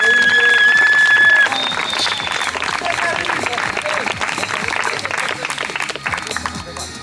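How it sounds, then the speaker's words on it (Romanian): Crowd applause at a downhill mountain bike race award ceremony, sustained clapping with some cheering from the crowd and a short electronic tone at the start. "În orice caz, îl onorăm cu niște aplauze!"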